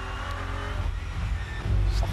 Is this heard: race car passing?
yes